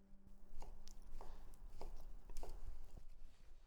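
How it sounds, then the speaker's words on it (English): A knife chops cooked ingredients for an Italian summer pasta salad on a board, giving a run of quick, close, fairly soft taps over a low hum, with no talking. "Now we can cut up the ingredients that we cooked."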